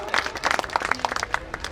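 Audience applause welcoming a guest at a gathering, a short burst of scattered, fairly close hand clapping from a crowd.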